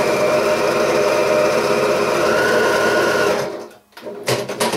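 A sewing machine runs steadily, stitching two fabric quilt strips face to face with a quarter-inch seam for a recycled quilt square, a loud continuous whir that stops abruptly near the end, followed by a few faint handling sounds.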